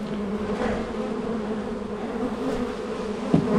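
Honeybees buzz steadily around an open hive during an inspection of a bee hut, a dense continuous hum close by with a faint knock near the end and no speech.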